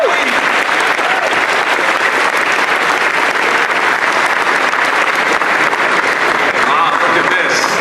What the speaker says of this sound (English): big round of applause for all our competitors here.